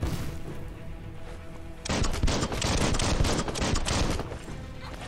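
Gunfire in the video game Biomutant, starting abruptly after a quieter opening and continuing as a loud, close stream of rapid shots that keeps going to the end.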